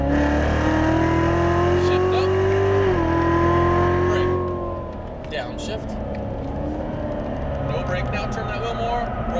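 Chevrolet Corvette C7 Z06 engine pulling hard on a race track, a loud steady drone rising in pitch, dipping briefly at a shift, then easing off as the car rolls into a corner, with an instructor's voice talking over it.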